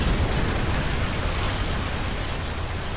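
A Calliope rocket barrage explodes in War Thunder, heard as a continuous loud, roaring blast of noise that fills the whole three seconds with no voices over it.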